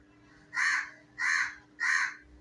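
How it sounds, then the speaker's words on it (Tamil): Crows caw three times in a steady, evenly spaced series while they feed on parotta with salna. The calls are loud and close, with no talk over them. "காக்கா கூட்டத்தை பாருங்க"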